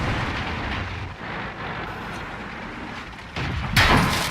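A T37 light tank takes a hit in World of Tanks: steady rumbling battle noise, then a sudden loud, sharp impact blast near the end.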